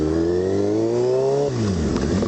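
A Kawasaki 636 sport motorcycle engine revs steadily and loud and close, its harmonic pitch rising, then dropping away sharply partway through as the throttle eases off.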